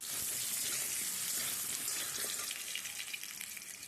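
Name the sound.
taro frying in oil in a wok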